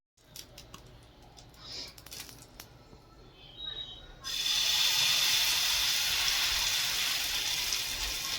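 Batter poured onto a hot pan greased with ghee or butter: after a few quiet handling clicks, a sudden loud, steady sizzle takes over and holds to the end.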